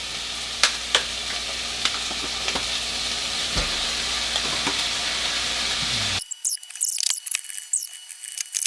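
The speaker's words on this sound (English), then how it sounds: "I'm gonna toss it into the pan. I got some oil in there. Toss in the sliced celery." Sliced celery and other vegetables sizzling in oil in a pan, a close, steady hiss with occasional crackles and pops that quiets abruptly partway through, leaving scattered light clicks.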